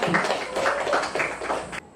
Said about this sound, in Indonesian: Tepuk tangan dulu untuk mereka ya